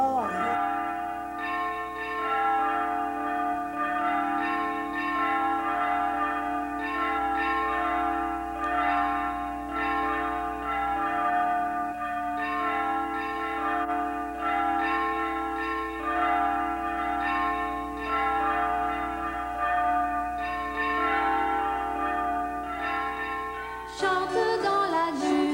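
Christmas church bells ring on and on in a rich, sustained wash of overlapping tones, loud and close, with a brief brighter burst near the end.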